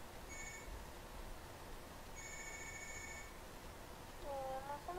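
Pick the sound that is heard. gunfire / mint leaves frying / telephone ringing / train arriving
telephone ringing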